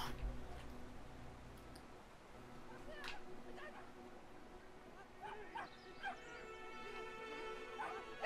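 A small dog in the video game Brothers: A Tale of Two Sons barks and yips in scattered, quick bursts over quiet game ambience, with a person talking over it.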